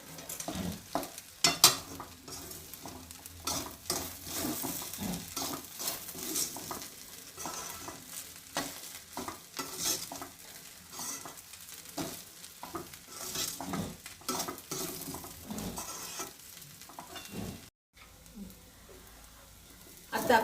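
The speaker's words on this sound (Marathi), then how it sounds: "त्याला छान असं मिक्स करून घ्यायचं।" Sabudana khichdi with rock salt is stirred in a pan over low heat, a spoon scraping and turning the mixture in repeated close strokes over a soft, continuous sizzle.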